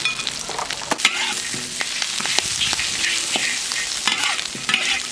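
Pig tails and pork tripe are stir-fried with spices in a wok, sizzling loudly and close. A spatula scrapes and clanks against the metal repeatedly throughout, with no voices.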